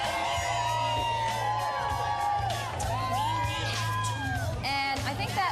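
A crowd gathered outdoors in Manhattan on an early fall morning whoops and cheers under steady background music, with people talking close by over the sustained noise.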